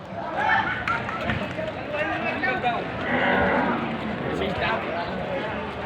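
Water buffaloes at a busy livestock market, occasional lowing amid a crowd, with people talking loudly throughout and a general bustle of the market around them.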